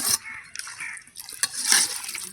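Water is poured into a pan while making village-style egg curry, a short splashing, gurgling pour with uneven bursts, close by and moderately quiet.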